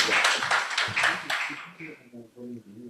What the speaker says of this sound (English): A round of applause for Barrow and for yourself,